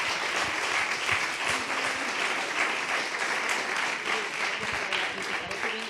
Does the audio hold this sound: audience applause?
yes